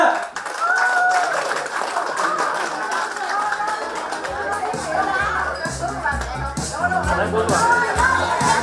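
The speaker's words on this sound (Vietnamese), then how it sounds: "xin mời mọi người hãy dành một tràng pháo tay thật lớn để cùng chào đón nhân vật chính của chúng ta ngày hôm nay, bé Minh Ý cùng ba mẹ của mình" Applause and cheering at a party as the guests of honour, a little girl and her parents, are welcomed; dense steady clapping amid crowd chatter and children's voices, with music coming in partway through.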